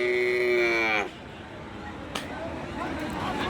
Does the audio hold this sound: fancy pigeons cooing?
no